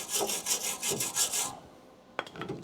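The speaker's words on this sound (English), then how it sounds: "wire brush it" A wire brush scrubs steadily across bare car body metal on a Crew Cab Charger under restoration, with rhythmic rasping strokes for over a second, then a sharp clank and lighter scraping.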